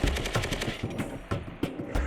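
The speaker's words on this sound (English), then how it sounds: "Marine gunners complete intensive counter-UAS instruction with M240B machine guns to become skilled in airborne threat response." An M240B machine gun fires during Marine counter-drone training, loud repeated rapid bursts with short gaps between them.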